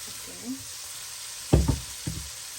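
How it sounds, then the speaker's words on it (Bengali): Rhubarb pieces drop into a hot pan of browned spices and are stirred, giving a couple of brief loud sizzling bursts with clatter over a quiet hiss. "কষানো হয়ে গেছে এখন আমি এই পর্যায়ে রোবারটা দিয়ে দিব এখানে"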